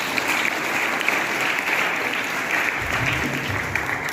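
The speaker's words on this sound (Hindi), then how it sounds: "जोरदार तालियों से स्वागत करें." Loud, dense applause from a school audience welcoming a speaker to the stage, steady clapping throughout with a low rumble entering near the end.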